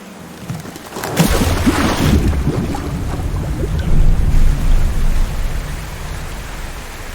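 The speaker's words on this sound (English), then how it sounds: "the storm has only gotten worse" A night storm breaks with a sudden loud roar of heavy rain and rumbling thunder that swells and then settles into a steady, dense downpour.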